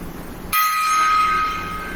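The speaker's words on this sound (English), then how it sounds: "gong solo" A gong is struck once, a sudden bright crash followed by a sustained shimmering ring that decays slowly, loud and close, with no speech over it.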